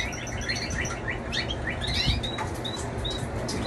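Young competition canaries sing in a dense run of quick chirps and trills, with several birds overlapping at close range above a steady background hum.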